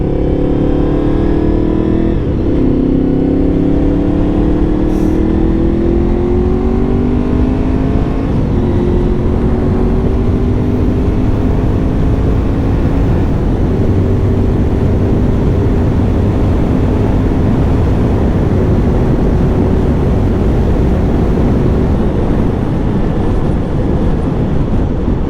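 Honda VFR 750 motorcycle engine revving under way, pitch climbing and dropping with gear shifts, steady loud ride noise with wind rumble and no talking throughout.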